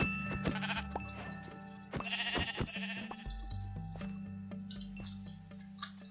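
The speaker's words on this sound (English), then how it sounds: "Found myself two sheep" Minecraft sheep bleat a few times, repeated calls over a steady background of tones and small clinking sounds.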